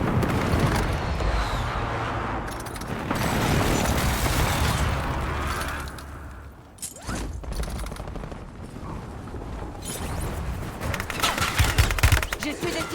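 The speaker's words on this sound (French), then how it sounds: "J'essuie des tirs." Battle royale video game gunfire crackles in dense rapid bursts and scattered shots, loud and sustained across the stretch, with a player's voice talking over parts of it.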